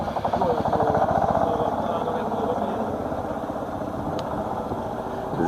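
An old Zetor Crystal farm tractor, made in Czechoslovakia, runs at a nearby show of rare farm tractors in Belgium, its diesel engine chugging in a rapid, steady rhythm that is loudest at first and then settles slightly.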